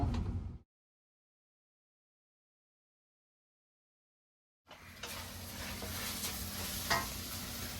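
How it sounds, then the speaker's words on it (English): Shrimp and pea pod stir fry for shrimp egg noodles sizzles up close in a short opening burst, falls silent for several seconds, then returns as a steady loud hiss and crackle with scattered pops. "Shrimp and pea pod stir fry on shrimp egg noodles"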